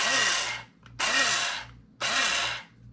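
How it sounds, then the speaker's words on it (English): Nettle seeds being coarsely ground for gomasio, three loud, even gritty grinding strokes about a second apart, each fading before the next, close by with no talk. "you don't have to grind them up all the way"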